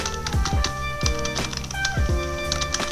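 Rapid clacking keystrokes, several irregular bursts of typing close by, over a steady background hum with tonal ringing.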